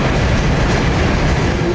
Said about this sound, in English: That train right there.